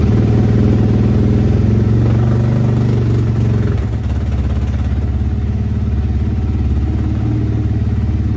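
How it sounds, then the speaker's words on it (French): A Suzuki ERZ 300 motorcycle engine with electric start runs close up, settling into a steady, even idle after a brief change in revs midway. "Là, le moteur il tourne rond"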